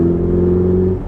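A mid-engine Ferrari 488 Spider, a 2018 70th Anniversary car, pulls hard uphill, its steady, loud engine drone holding with strong low harmonics and easing slightly at the very end.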